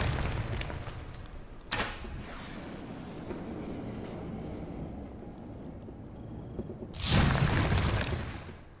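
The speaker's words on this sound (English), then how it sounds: "So you shoot them, they fly around, and eventually it'll blow up." In the VR game Waltz of the Wizard, a shot barrel explodes with a brief burst, followed later by a louder, longer blast that fades out, over quiet background ambience.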